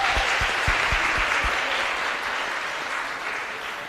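Applause from an audience at a tourism youth expo, a dense burst of clapping with a few distinct loud claps at first, then tapering gradually toward the end.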